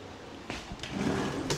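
A barber station drawer slides open, making a couple of short scraping knocks followed by a soft rolling rumble and a final bump, fairly quiet and close.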